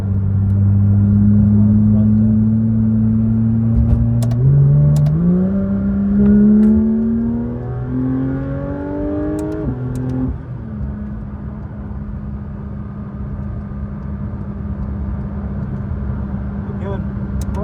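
A Porsche 992 GT3 RS driving on a road, its engine note climbing through the revs in rising tonal sweeps before settling into a steady, even drone at cruising speed, heard from inside the car.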